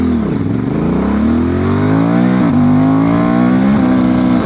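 A Honda Transalp 750 motorcycle with a remapped ECU accelerates hard, its engine note loud and close, climbing in pitch through rising revs with brief dips at each gear change.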